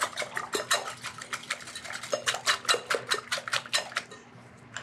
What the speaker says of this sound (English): So now these get whisked.